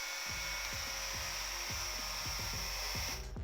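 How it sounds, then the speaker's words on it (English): An angle grinder with a cutoff disc grinding through 15mm steel plate, a loud continuous high whine close up, with a rhythmic low chugging as the disc bites, cutting off abruptly at the end. "then it's just a matter of grinding and grinding and grinding"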